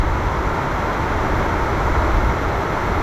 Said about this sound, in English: But that's the sound of rain on a tin roof.